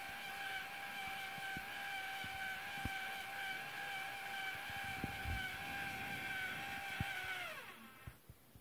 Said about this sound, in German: Hier kommt jetzt die Straßenseilbahn noch einmal in Bilde und fährt jetzt gerade oben in die Bergstation ein.